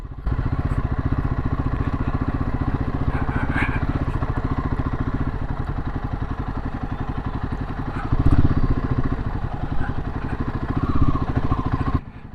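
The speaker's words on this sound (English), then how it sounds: "This motorcycle glides." A Royal Enfield Himalayan 450 motorcycle runs steadily off-road with a continuous, even engine drone. A few louder surges of revving and some clattering over rough ground come through close up, and no one speaks.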